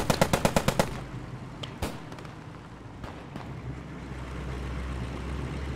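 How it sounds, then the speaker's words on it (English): A .50 cal machine gun in the game Post Scriptum fires a rapid burst of about seven loud, evenly spaced shots at a tank, followed by scattered distant impacts and low rumbling battlefield ambience. "the 50 cal destroyed the tracks on the tank"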